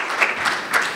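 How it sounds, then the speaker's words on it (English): Audience applause at a youth sports wall of honor dedication, a short burst of many hands clapping with slight swells, fairly close and without talk. "I'd like to give you guys a round of applause"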